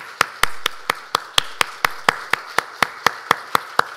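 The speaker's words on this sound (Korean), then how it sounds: "네, 큰 박수로 격려해 주시기를 부탁드립니다." A church congregation at a Sunday worship service claps in a steady, regular rhythm of sharp, evenly spaced claps, fairly close and without talk.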